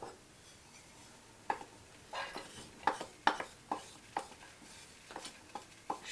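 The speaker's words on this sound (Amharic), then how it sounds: "ሽንኩርታችንን መጥበሻ ላይ እናደርጋለን።" Onions stirred in a frying pan make sparse scraping taps of a utensil against the pan, irregular and fairly quiet, over a faint low hiss.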